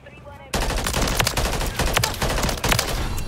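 Rapid, loud gunfire from the M8A1 burst rifle in Modern Warfare 3, firing in repeated bursts with sharp cracks over dense game action.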